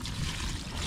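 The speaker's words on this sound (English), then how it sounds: "I'm just gonna pour it into that for right now" Fluid from a Freightliner Cascadia water and fuel separator filter pours steadily into a container, a continuous liquid trickle and splash close by with no talking.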